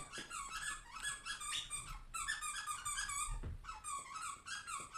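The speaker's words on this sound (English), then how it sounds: "My dog found the loudest toy possible and just went nuts on it for like 5 minutes straight." Dog chewing a very loud squeaky toy, rapid repeated shrill squeaks in bursts with a short break, close and alone.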